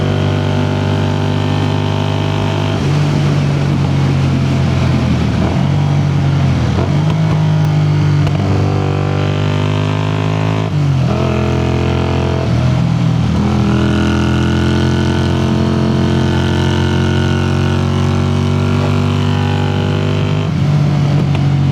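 A 1981 Honda CX400C motorcycle engine drones steadily while riding, its pitch rising and falling with each gear change and throttle shift, loud and close for the whole stretch with no talking.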